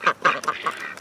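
A flock of mixed ducks, including Welsh Harlequin, Ancona, Cayuga and runner ducks, gives four or five loud, rapid quacks close by, closely spaced and alone with no voices.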